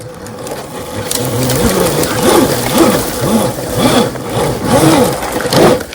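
The electric motor of a Qronge X1Spark dirt bike whines loudly and up close as it is ridden over rocky off-road ground, the pitch rising and falling over and over with the throttle.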